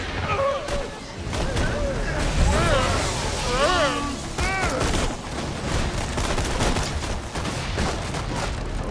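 Weapons fire in Borderlands 2, pearlescent-class guns loosing rapid volleys of sharp shots with ringing, pitched synthetic effects, dense and loud throughout with game noise layered underneath.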